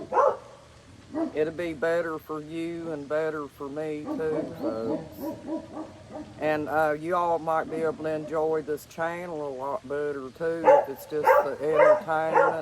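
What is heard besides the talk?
dogs barking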